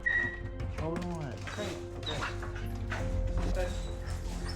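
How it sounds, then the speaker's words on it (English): Several dogs yip, whimper and bark excitedly at close range in short overlapping bursts, while a person talks intermittently. "This morning, I plan on taking the dogs with me."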